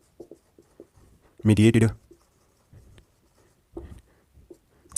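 Light, scratchy strokes of writing on a board come in short scattered bursts, close by, with a brief spoken word in the middle.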